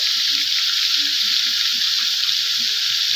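A pan sizzles with a loud, steady hiss as red chilli powder goes in, constant frying noise throughout with faint low voice murmurs beneath.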